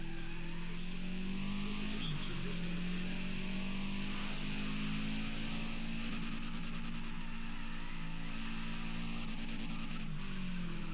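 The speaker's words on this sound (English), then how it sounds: "lower the decibels on that turbo whistle" A racing car in Need for Speed holds a steady engine drone with a high turbo whistle riding on top for the whole stretch, continuous and loud with small pitch shifts and no talking.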